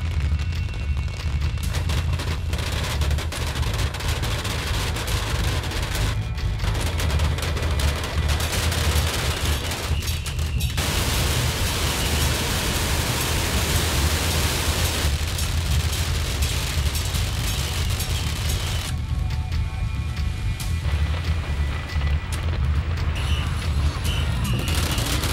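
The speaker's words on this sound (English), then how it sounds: "Putting oneself amid the explosions of thousands of firecrackers continues to be a challenge to the brave" Thousands of beehive firecrackers burst at a temple festival in a dense, relentless crackling barrage, the volleys coming loud and close with no break across the whole stretch.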